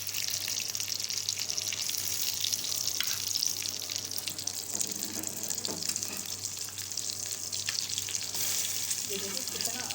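Potato cutlets fry in a pan with a steady close sizzle and spatter, and a few soft scrapes and taps are heard as they are turned over.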